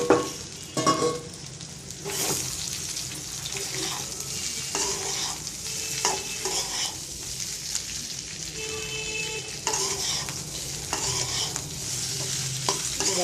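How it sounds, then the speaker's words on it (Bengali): Onions and potatoes sizzle loudly in a pan while a utensil scrapes and stirs in repeated strokes, with no talking. "পেঁয়াজটা ভালো করে ভাজা হয়ে গেছে, এখন একটু মিক্স করে দিচ্ছি"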